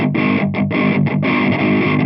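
Electric guitar played through a Black Cat Djentonic distortion pedal with the gain turned all the way down, into an Eminence Swamp Thang speaker; a few chugging chords and short stabs with brief gaps, loud and alone.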